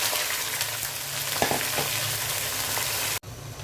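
Polao rice hits hot oil for biryani and fries with a loud, steady close sizzle and some stirring, cutting off abruptly near the end.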